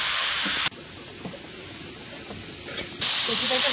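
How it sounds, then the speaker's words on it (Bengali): Taro frying in a pan gives a loud, steady sizzling hiss close up. The hiss softens for a stretch in the middle, then returns at full strength. "কচুটাকে ভালো করে ভেজে নিয়েছি"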